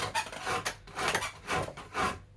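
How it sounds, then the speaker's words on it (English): A rasp files across the grain of a yew bow stave in several rough, scraping strokes, each a rhythmic rasping burst with short pauses between, close and fairly loud. "This would be a good moment to bust out your rasp."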